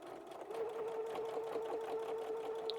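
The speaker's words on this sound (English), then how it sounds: "I'm just going to now sew the sides." A sewing machine runs steadily for nearly three seconds, stitching the side seams of an appliquéd pillow cover with a continuous close whir that speeds up slightly after a brief start.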